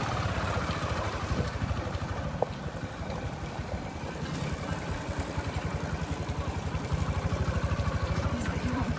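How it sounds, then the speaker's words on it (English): A tiny motorbike taxi engine runs steadily throughout with a fast, even pulsing drone, close and fairly loud over road and wind noise. "this guy's running a tiny motor bike"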